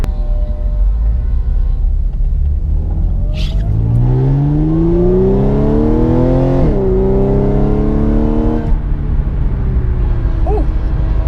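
A Stage 1 tuned 2013-era Audi S4 B8.5 accelerates hard from inside the cabin, engine note climbing steadily through a gear then shifting abruptly and pulling again, loud and continuous with road rumble beneath.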